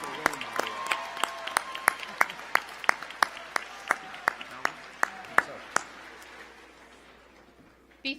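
At a university winter commencement, sparse, evenly spaced claps ring out for School of Business graduates over a faint tonal background, then slowly die away, with one last clap at the end.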